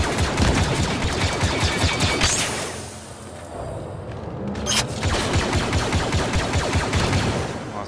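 Rapid volleys of ion weapon fire in Star Wars Battlefront 2, loud and continuous, dipping briefly before resuming.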